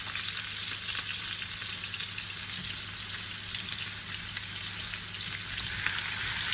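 Onions and garlic sizzle steadily in olive oil in a pan, a continuous close frying hiss with a faint bubbling crackle throughout and no talking.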